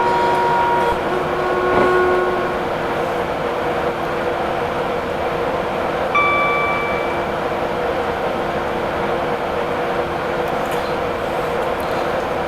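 A train in Train Simulator 2017 rolls along high-speed track with a steady low rumble and hum, broken by a couple of brief tonal squeals or horn-like tones, no voices present.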